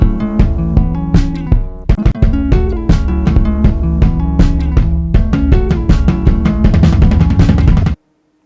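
A song verse plays loudly with full band, driving drums and a busier drum fill building toward the end before cutting off abruptly.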